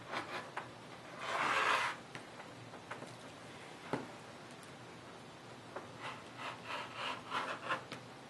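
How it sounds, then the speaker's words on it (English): A rotary cutter slices through quilting fabric along a template, producing a faint close rasping cut, a few soft taps and rustles, and a run of short scraping strokes toward the end. "you'll make that cut starting part way up in your template and bring your cutter back"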